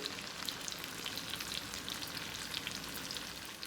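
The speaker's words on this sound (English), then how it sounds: "All we're gonna do is let this fry up a little bit till it's a little bit brown." Okra frying in a pan gives a dense, continuous sizzle with fine crackling pops, steady and close, with no voices.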